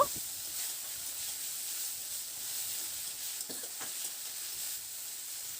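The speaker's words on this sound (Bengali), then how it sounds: "এবার টমেটোটাকে দিয়ে একটু নাড়াচাড়া করে নেব" Chopped tomatoes stirred into hot oil with onion and garlic, frying with a steady soft sizzle and faint scrapes of a spoon against the pan, close and without talk.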